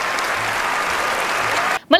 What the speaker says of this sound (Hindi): भाई जोरदार तालियां बनती है बुमराह के लिए।